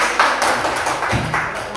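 A class claps together during a teaching practice lesson, a steady crackling patter of many hands lasting a couple of seconds with no talk over it.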